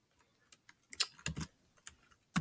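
Soft, irregular ticking and clicking of annotation notes being typed or written, a sparse series of quiet taps in near-silence with a louder burst at the end.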